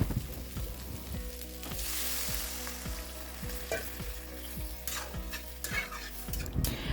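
Pigeon meat curry sizzles loudly in a pan as water is added, a dense crackling fry with repeated scraping stirs and spoon knocks against the pan, close and continuous, with no talking.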